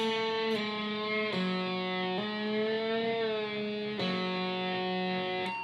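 Slow electric guitar phrase from a blues song, with a slide, hammer-on, bend and pull-off as sustained, slightly distorted notes that glide and shift pitch, close and alone.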